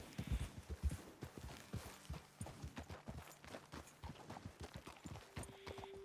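Horse hooves clip-clop at a walking pace in Red Dead Redemption 2, a steady run of close, distinct thuds with a faint rhythmic irregularity, fairly quiet and with no talk.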